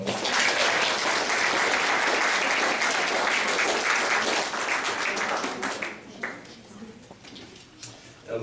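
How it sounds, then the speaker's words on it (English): Sustained audience applause for award winners at an entertainment awards event, loud and steady for about six seconds before thinning into scattered claps and a few stray sounds. "if you could please give them a round of applause"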